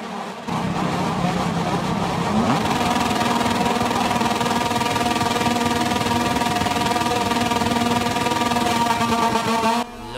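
Motorcycle engines in the MotoGP 24 video game at the German Grand Prix race start, a dense, loud buzzing drone of multiple bikes revving continuously, with harmonics climbing as they accelerate away.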